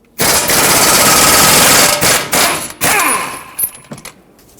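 Bolt on a Ford F-150 front brake caliper bracket being loosened with a 21mm socket: a loud, rapid mechanical rattle runs for about two seconds, then breaks into shorter bursts and clanks before fading out.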